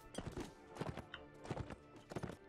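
Hooves of a horse in the video game Mount & Blade: Warband clop in quick, rhythmic groups of beats at a steady gallop, close and clear, with no voice over them.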